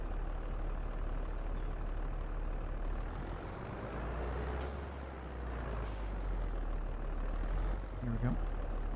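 A tractor engine in Farming Simulator 22 runs at a steady low rumble, fairly quiet, with a couple of brief hissing bursts and a short mechanical whine near the end.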